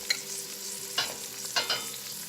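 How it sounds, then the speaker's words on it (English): Pepper grinder cranking fresh cracked black pepper over a pot of vegetable stock, three or four short gritty bursts close by, separated by brief pauses, with no voices. "we're going to do some fresh cracked black pepper"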